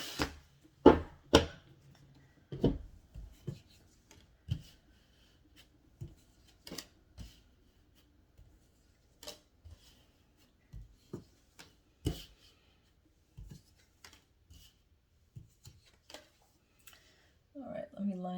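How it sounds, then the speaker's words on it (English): Tarot cards are drawn from a deck during a reading: sparse, soft snaps and light slaps of card stock come at irregular intervals, close and quiet, with a brief rustle near the end. "let's go ahead and pull some cards."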